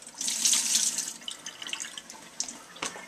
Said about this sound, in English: it just makes sense to change the water in the noodles